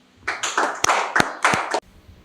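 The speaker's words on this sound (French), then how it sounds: "Et nous voulons bien l'applaudir." Short burst of hand clapping at a supporters' committee installation ceremony, a few loud sharp claps in a quick uneven run lasting under two seconds, then quiet.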